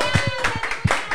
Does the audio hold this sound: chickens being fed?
no